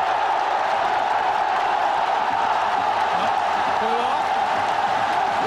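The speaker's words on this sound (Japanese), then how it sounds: "場内の大歓声で少しちょっと聞こえなかったんですが" A stadium crowd roars steadily at an A3 Champions Cup 2007 football match between Urawa Reds and Seongnam Ilhwa Chunma, a dense, unbroken wall of noise lasting throughout with a commentator's voice faintly over it.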